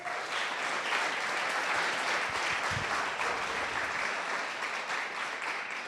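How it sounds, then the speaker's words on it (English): An audience at a startup founders event in Phoenix claps in sustained applause, a dense, steady wash of many hands that stays loud and even for several seconds without fading. "Round of applause for Stan."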